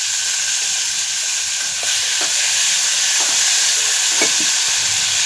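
Cumin, mustard seeds and chillies crackle in hot oil as a tempering, a loud continuous sizzle broken by sharp little pops and clicks that grow more frequent toward the end.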